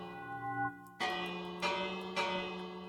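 A bell in a Minecraft raid farm rings repeatedly, three or four clear metallic strikes about half a second apart, each one ringing out and decaying over a sustained, tonal background.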